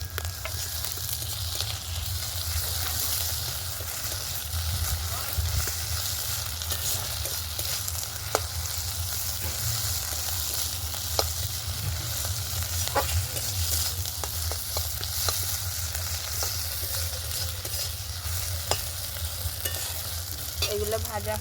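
Onions frying in a wok with ginger garlic paste for village-style chicken biryani, a loud steady sizzle with frequent sharp scrapes and clinks of stirring throughout, no voices.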